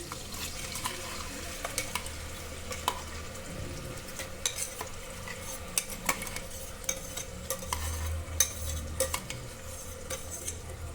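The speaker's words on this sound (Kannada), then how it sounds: "ನೆಕ್ಸ್ಟ್ ಗ್ರೈಂಡ್ ಮಾಡ್ಕೊಂಡಿರೋ ಮಸಾಲ ಹಾಕ್ತಾ ಇದ್ದೀನಿ." Ground masala stirred into a frying pan for hotel-style tomato bath, with repeated metal spoon clinks and scrapes against the pan over a low sizzle, close and without talk.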